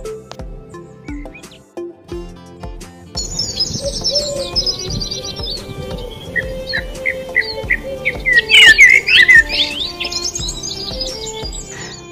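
Forest birds at Jhandi in Kalimpong chirp and tweet in quick, bright bursts, several calls overlapping and growing busier in the second half against a low steady background hum.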